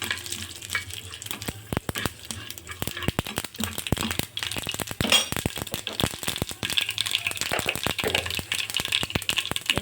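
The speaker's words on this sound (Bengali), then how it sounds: "সর্ষে, পাঁচফোড়ন ভালো করে লাল করে ভেজে নেব।" Mustard seeds and panch phoron frying in oil in a pan, a close, crackling sizzle with rapid irregular pops and spits, a few metallic clinks, and no talk.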